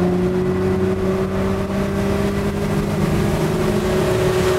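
A vehicle driving at night gives off a steady, droning engine hum with a constant tonal whine, close and continuous, with no talking.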